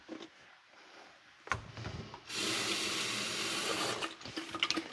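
A kitchen tap is turned on to rinse out a jar that held pasta sauce: a faint clink and handling, then a loud, steady gush of running water filling the jar for about two seconds before it shuts off, followed by light clatter.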